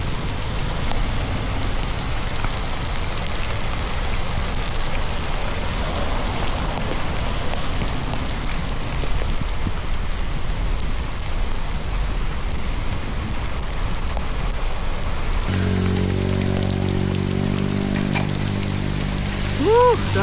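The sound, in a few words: heavy rain pouring during a bike ride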